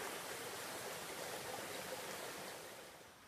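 A small stream flows steadily on a farm, a soft continuous rushing and trickling of water, close and unbroken, fading slightly at the end.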